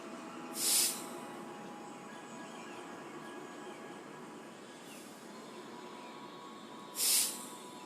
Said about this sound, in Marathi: जोरात बाहेर सोडा. संपूर्ण श्वास बाहेर जाईपर्यंत